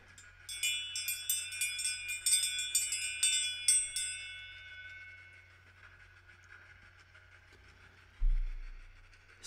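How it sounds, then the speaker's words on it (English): A meditation bell strikes repeatedly in a quiet setting, a series of bright ringing tones with overlapping decays that fade to a long soft resonance, fairly faint and alone. "As you hear my bell ring, you can drop down deep."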